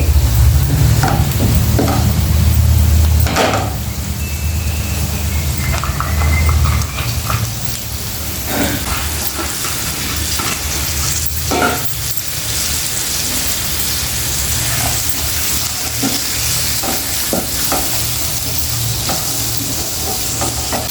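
Steady loud sizzling of spices frying in a hot pan, with occasional stirring scrapes and clinks and no voices.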